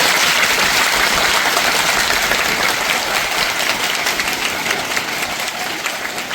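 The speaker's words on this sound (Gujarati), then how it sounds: "એમના માટે આપણે જોરદાર તાળી વગાડીએ પહેલા." Children and staff at a school foundation and teachers' day event clap together, a dense sustained round of applause from a crowd that gradually eases off toward the end.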